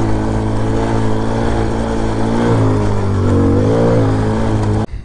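A Hellcat Raptor 125cc motorbike, a Grom clone, rides through mud, its engine droning loud and steady with rising revs and pitch swells before cutting off abruptly at the end.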